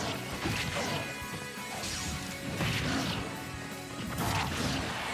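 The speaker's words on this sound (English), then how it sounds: "Great down smash and actually killing too." A down smash in Smash Ultimate, Wolf against Bowser, lands as a burst of crashing impacts and whooshes, several loud thwacks repeating through a few seconds of busy game noise.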